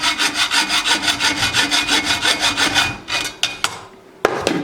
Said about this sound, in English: So I need to shorten this 256 bolt a little bit because I need the shoulder for the bearing